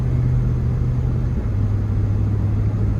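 A 1999 Ford F-150 with the 4.6 engine drives down the road, its engine hum a steady low rumble that holds constant throughout with no talking.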